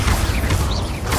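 Expulso explosion spell cast in the Hogwarts Legacy video game: a short, loud burst of blasting, crashing impact with a swooshing magical tail, up close and alone.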